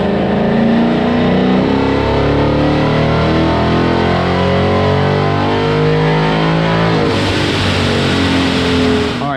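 Supercharged 2018 Mustang GT with a Vortech supercharger on a dyno, pulling in 6th gear: a loud, sustained engine roar with rising harmonics through the RPM sweep, ending with a brief shift in tone near the end.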